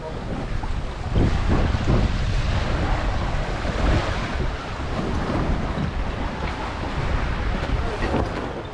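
Water runs and splashes off the stern of a drifting boat with its engines shut down, a steady close wash mixed with wind noise across the microphone at sea in the Capricorn Bunker Group, with no talking.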